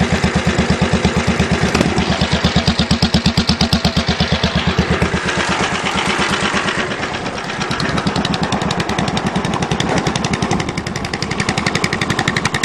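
Modified lawn tractor engine racing at a farm, running warm after warm-up: a loud, close, rapid putter of firing pulses with slight shifts in revs, continuous throughout with no talk.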